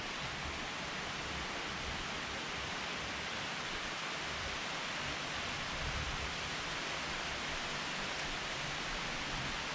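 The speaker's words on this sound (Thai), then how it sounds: "ฝนตกหนักมากเลยครับตอนนี้" Heavy rain pours on a mountainside, a loud, unbroken roaring hiss of dense drops that stays constant throughout with no talk over it.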